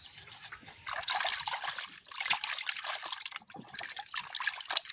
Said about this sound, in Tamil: அதை வடிவாக கழுவி எடுப்போம்